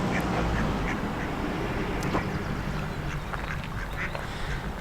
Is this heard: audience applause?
no